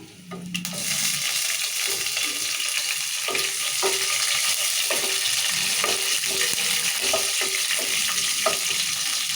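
Green chillies frying in hot oil for wheat rava upma, a loud continuous sizzle close up, with occasional soft stirring clinks and scrapes in the pan.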